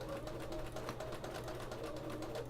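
A home sewing machine stitches a quilt in straight lines, its motor and needle running at a steady, even, rapid rhythm with no pauses, close and continuous throughout.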